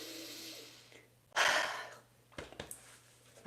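One person draws a single deep, audible breath in, a brief airy rush that stands out clearly in a quiet room, followed by softer breathy sounds and small mouth noises.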